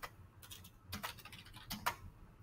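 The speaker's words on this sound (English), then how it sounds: "And you can see as I'm typing" Typing on a computer keyboard, quiet irregular clusters of key clicks tapping close by in a near-silent room.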